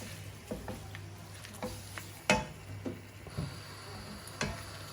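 Keema mince with salt, chilli, turmeric and achar gosht masala stirred in a pan over low-to-medium flame, a soft steady sizzle broken by irregular scraping knocks of the spoon, quiet and close with no talk.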